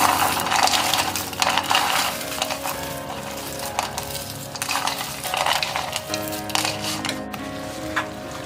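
Fried pakoda crumbled by hand into a sizzling roadside-style mushroom masala gravy: continuous close crackle and frying hiss with crunchy breaking and clinking textures, steady throughout and with no talking.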